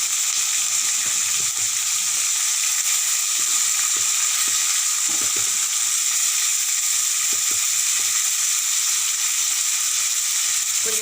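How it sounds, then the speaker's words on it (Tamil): Onions and garlic sautéing in a pan for a Tamil manathakkali vathal kulambu, a loud constant sizzle with occasional soft stirring knocks, no voices. "நல்லா வதக்கிக்கலாம். இப்போ இதில் நம்ம கட் பண்ணி வச்ச வெங்காயத்தை சேர்த்துக்கலாம்."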